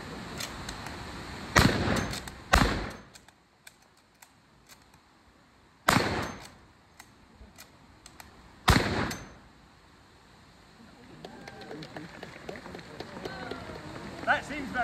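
Rifle shots ring out at Stirling Castle: several loud sharp bangs spaced a second or more apart, each with a short echo, over outdoor crowd murmur and people talking.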